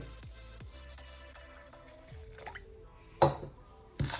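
Cold water drips and trickles into a bowl of flour mixture for Jaffna murukku dough, with small splashy pours and a couple of louder splashes near the end, close by, with no talking.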